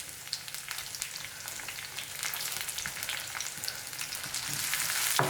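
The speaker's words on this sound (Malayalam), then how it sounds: "ഇപ്പൊ കണ്ടില്ലേ, ഉള്ളി ഒന്ന് ഫ്രൈ ആയിട്ട് വന്ന് തുടങ്ങിയിട്ടുണ്ട്." Sliced shallots and curry leaves frying in coconut oil for a Kerala ivy gourd curry, crackling and popping in bursts that build louder toward the end, close by and without speech.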